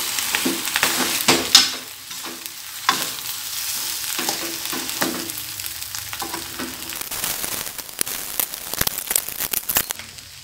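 Fried rice with two eggs is stirred in a frying pan, giving continuous sizzling with irregular scraping and tossing strokes of the spatula. The sound is close and fairly loud throughout, with no voices.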